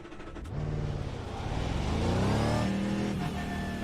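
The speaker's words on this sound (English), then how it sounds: "these engines are too loud for everyone's voices" Loud V8 racing engines at Barber in a video game rev and roar continuously, rising and falling in pitch as cars accelerate and shift, with no voices audible above them.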